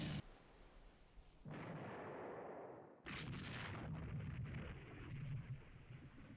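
Heavy naval gun salvos from a warship's rear turret in Rule the Waves 3, booming in broad rumbling bursts that roll out and overlap, loud and continuous with no voices.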